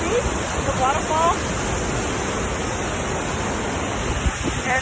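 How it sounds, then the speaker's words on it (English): McArthur-Burney waterfall roars in a steady broadband rush throughout, with brief faint voices near the start partly masked by the water. "Can you see the waterfall?"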